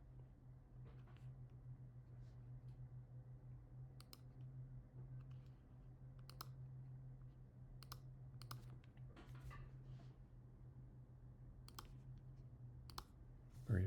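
Typing on a computer keyboard while setting text in a design program, with steady key clicks in bursts over a constant low hum, fairly quiet and close.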